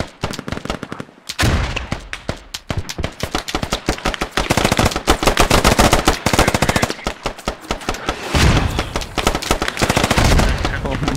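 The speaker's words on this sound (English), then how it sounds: "That's AK fire right there." Sustained AK rifle fire in the military shooter game Squad, with rapid loud cracking bursts sounding close, one after another over several seconds with only brief gaps.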